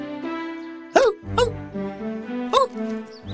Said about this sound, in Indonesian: mereka mendengar Max menggonggong menyambut mereka